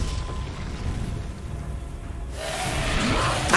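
A Levioso levitation spell cast in the video game Hogwarts Legacy, a low rumbling whoosh that swells into a brighter magical shimmer toward the end, steady and fairly loud over continuous game ambience.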